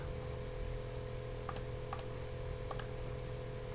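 Three quick double-clicks of a computer mouse selecting a field in Siemens S7-1200 PLC software, crisp and near, spaced out over a steady electrical hum.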